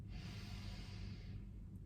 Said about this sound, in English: So breathing in through the nose